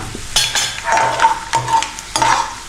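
Mustard seeds hit hot oil in a pan with peanuts for spiced puffed rice, crackling and sizzling up close in short bursts, with a spoon scraping the pan between them.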